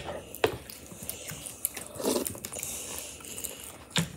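Fruity Pebbles cereal being eaten at breakfast, with close crunchy bites and soft chewing in quiet, irregular bursts over a few seconds.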